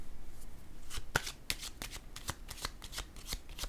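Tarot cards shuffled by hand in a quiet room, a run of crisp, fairly close riffling and slapping bursts in an uneven rhythm, with no talk over them.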